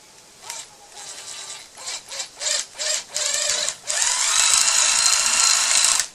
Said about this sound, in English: Got a 3/16 inch drill bit.